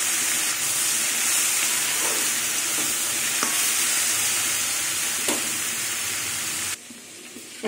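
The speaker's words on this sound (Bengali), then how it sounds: "নিম পাতাগুলো দেখুন ভাজা হয়ে গেছে" Neem leaves frying in a pan, a steady, loud hissing sizzle with a few soft stirring knocks, cutting off abruptly near the end before resuming.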